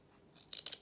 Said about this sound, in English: elongate that little cut by putting the nose of the scissors in the cut we've made with the seam ripper